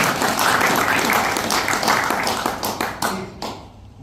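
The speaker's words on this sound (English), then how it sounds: "sometimes it gets a round of applause" Audience applause fills a private evening event: a dense, steady wash of many hands clapping close by that thins and tapers toward the end.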